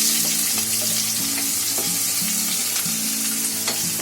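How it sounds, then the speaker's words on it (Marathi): Onion frying in oil with garam masala for a malai kofta curry gravy, a loud continuous sizzle near at hand with a steady hum and faint stirring knocks beneath. "कांदा तर चांगला लाल होईपर्यंत फ्राय करायचा आहे."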